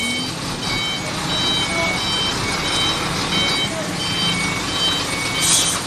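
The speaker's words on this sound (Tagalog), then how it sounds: "Yan po yung truck na malaki oh" A large truck backs up on a road, its reversing alarm giving repeated high beeps over a rumbling engine and street noise, with a person talking nearby.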